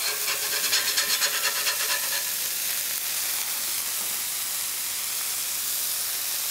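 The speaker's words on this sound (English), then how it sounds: "All right, I'm gonna start scraping." A metal spatula scraping smash burgers off a hot griddle, a steady close rasping scrape with a rhythmic start over continuous sizzle, no talking.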